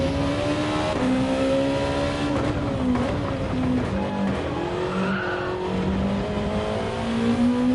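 A Gran Turismo 7 race car on the Fuji circuit howls at high revs in fifth gear, a loud, sustained engine note rising and dipping slightly with tyre noise, close and unbroken.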